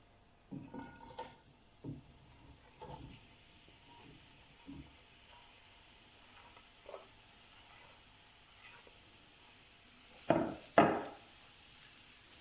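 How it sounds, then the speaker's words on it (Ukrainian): Faint sizzling of onion frying in vegetable oil in a covered pan over medium heat, with scattered soft crackles and a couple of sharper clanks of cookware near the end. "Накриваємо кришечкою і жаримо на середньому вогні."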